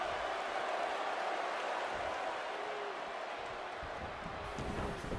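A wrestling arena crowd in WWE 2K20 roars in a steady, distant wash of cheering that holds evenly throughout with no clear peaks.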